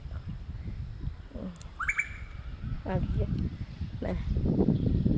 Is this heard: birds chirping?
yes